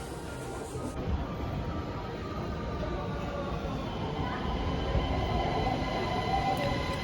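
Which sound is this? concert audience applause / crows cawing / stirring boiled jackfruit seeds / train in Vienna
train in Vienna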